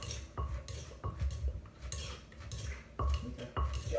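A pestle pounds papaya salad (som tam) in a mortar with steady, fairly loud thuds about twice a second, each carrying a light clink, over a busy background with no talk.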